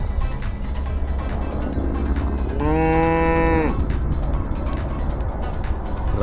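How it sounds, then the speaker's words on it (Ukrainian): A stray cow on a road near the Krakovets border crossing in Ukraine lets out one loud, drawn-out moo over a steady background of passing traffic. "Где-то пастух потерял свою корову, и теперь она ходит, бродит, ищет пастуха."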